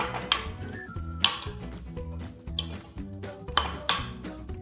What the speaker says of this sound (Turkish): Böyle karıştırıyorum yine